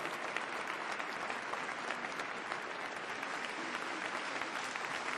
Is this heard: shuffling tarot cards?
no